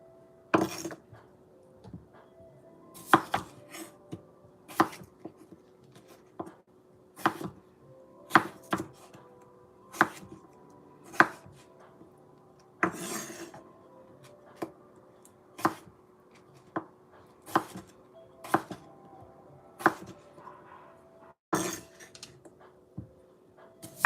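A knife chops potatoes into small pieces on a board. The crisp, separate thuds come irregularly, roughly every one to two seconds, with quiet pauses between them and no talking.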